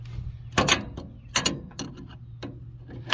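A crescent wrench turns the swivel on a pressure washer hose reel counterclockwise, giving a few separate close metallic clicks and scrapes with quiet gaps between them.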